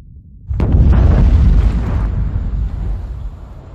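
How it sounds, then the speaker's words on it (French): A nuclear explosion sound effect starts with a sudden heavy blast, then swells into a deep, loud rumbling roar that slowly fades over several seconds, with no voices. "En cas d'explosion nucléaire au Bugey."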